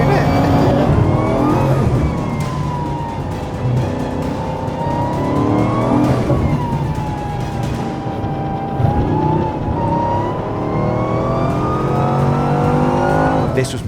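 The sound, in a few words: 1,600 horsepower Bugatti accelerating at full throttle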